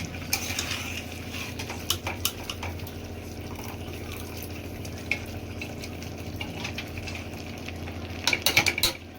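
Cooked rice goes into a chicken dum biryani pot amid soft clinks and scrapes of a spoon against metal, with a low background hum and a cluster of sharper utensil knocks near the end.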